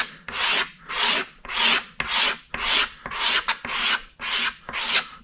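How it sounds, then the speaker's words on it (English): A razor blade held at a right angle scrapes the old plastic fuel tank of a 1983 Yamaha IT 175 dirt bike. About ten rhythmic, raspy strokes come close and loud, with short pauses between them. "I got it like just a knife blade or a razor blade, kind of taking it at a right angle to the tank and just scraping."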